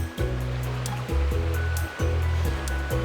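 Continuous close rushing of a rocky mountain stream in the Shanlinxi forest of Nantou, Taiwan, with a few low swells breaking the steady hiss of flowing water, heard alone without talk.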